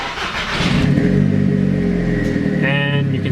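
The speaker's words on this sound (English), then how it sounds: "We're gonna turn on my car here." A Volkswagen GTI engine cranks and catches, settling into a steady idle with a rising rev, heard close up from inside the car, with a faint voice nearby.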